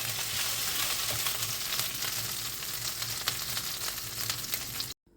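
Mashed boiled potatoes with tomato paste sizzle steadily and loudly in a pan, a continuous close frying hiss with faint stirring that cuts off abruptly at the end.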